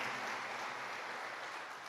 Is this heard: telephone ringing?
no